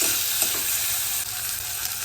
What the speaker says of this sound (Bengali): ওইটা দিয়ে ভালো করে ভাজা ভাজা করে নেবো গ্যাসটা কিন্তু একটু বাড়িয়ে দিলাম